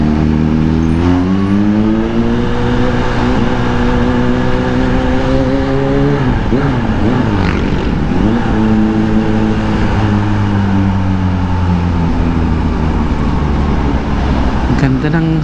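Kawasaki Z H2 motorcycle engine fresh from an oil and filter change, revving loud and close, rising and falling through several throttle sweeps with a voice talking over it.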